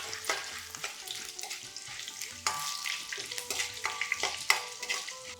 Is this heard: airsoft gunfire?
no